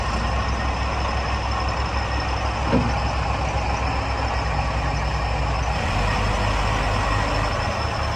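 The diesel engine of a 2002 Case 580M backhoe runs loudly at a steady idle in an equipment yard, a thick continuous rumble that shifts slightly lower near the end, with no talk over it.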